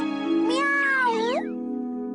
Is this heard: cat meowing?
yes